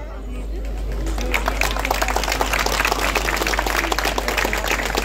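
Concert crowd applauding in Dersim, a broad wash of clapping that swells in from quiet and stays steady over a low hum, with whistles rising near the end.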